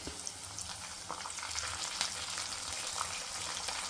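Curry leaves, turmeric and green chillies fry for tomato dal, giving a close, continuous crackling sizzle with light spattering throughout.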